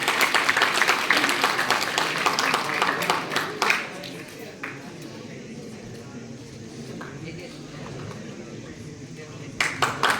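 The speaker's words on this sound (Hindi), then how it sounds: "जोरदार तालियां बच्चों" Schoolchildren clap at an award ceremony where khadi products are handed out as prizes, a dense burst of applause that fades after a few seconds while a voice speaks over a quieter room, then clapping briefly returns.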